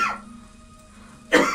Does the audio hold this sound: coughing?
yes